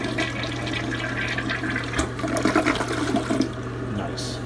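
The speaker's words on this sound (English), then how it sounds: "Let's flush this puppy." A Mansfield Alto toilet in a men's room flushes with a loud rushing swirl of water that gurgles and drains over several seconds, heard up close.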